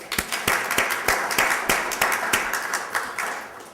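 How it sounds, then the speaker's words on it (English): A modest lecture audience welcomes a guest with clapping, distinct rhythmic claps from a few people in a room, fairly close and steady, with no talk over it. "Please join us in welcoming him with a round of applause."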